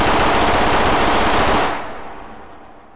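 Rapid automatic fire from a gun in the VR shooting game Hot Dogs, Horseshoes & Hand Grenades rattles loud and dense for about a second and a half, then cuts off and trails into echo.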